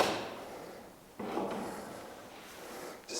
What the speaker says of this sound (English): Probably to open up this dresser drawer.